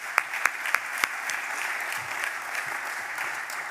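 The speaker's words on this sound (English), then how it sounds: "So maybe a round of applause for them today again." Conference audience at the Rail Data Forum applauds keynote speakers: a few sharp, separate claps open, then steady, even applause fills the room at moderate level, with no talk over it.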